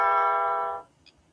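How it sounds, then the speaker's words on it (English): A single sustained electronic doorbell chime rings loudly for under a second, then cuts off into near silence. "Why is somebody ringing my doorbell?"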